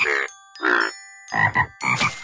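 Cartoon frogs croak in a children's counting video game with Curious George, four separate loud croaks with short pauses between them and no talking.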